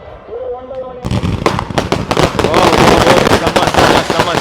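Eight-inch firecrackers explode at the Gangaiamman Sirasu temple festival in Poigai Mottur, a loud, rapid, continuous crackle of dense bangs that starts abruptly after a brief whistling tone, with voices faintly beneath.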